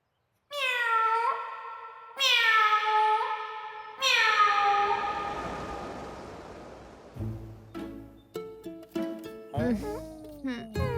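A cat meows loudly and close up in several long, drawn-out calls, followed by a run of shorter, quicker mews over other sounds.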